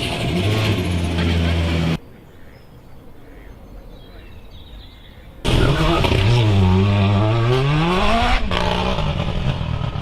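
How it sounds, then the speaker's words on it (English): A World Rallycross Mini based on the Countryman, over 600 horsepower, roars loudly nearby, cuts to a quiet pause by a pond, then returns with rising and falling revving sweeps. "this behind me is the World Rallycross Mini, which is based on the Countryman"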